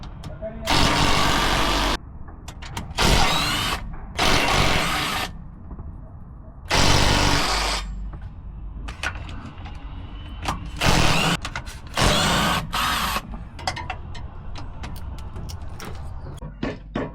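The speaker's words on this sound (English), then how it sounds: "17 wrench. I will take out all the diff screws." A 17 mm wrench works the rear differential cover screws loose on a Land Rover Defender 110, giving loud, harsh bursts of mechanical tool noise that come in repeated spurts with quieter clatter and handling noise in between.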